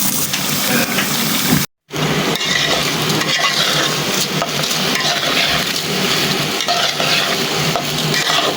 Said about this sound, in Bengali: পোলাওর চালটারে আমি এখন একটু ভাজা ভাজা করে নিব